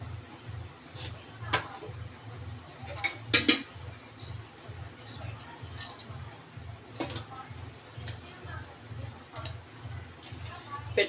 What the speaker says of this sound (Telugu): ఇప్పుడు స్టవ్ వెలిగించుకొని ప్యాన్ పెట్టుకోవాలి.